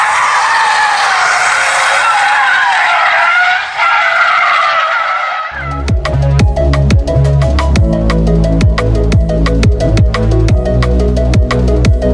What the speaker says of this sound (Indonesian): Ini contoh ketika mobil understeer dan oversteer.